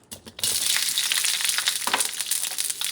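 Onions hitting hot oil in a carbon steel wok during a stir fry, a loud sizzle that bursts in after a brief quiet start and holds as a steady, crackling hiss to the end.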